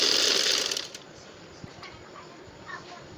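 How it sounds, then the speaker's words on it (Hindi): A sewing machine stitches piping along the side of a trouser in a short, buzzing run under a second long, then stops, leaving faint room noise and a few soft clicks. "1 फुट की सिलाई लगाऊंगी मैं पाइपिंग के लिए"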